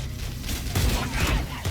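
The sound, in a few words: gunfight sound effects in Halo video game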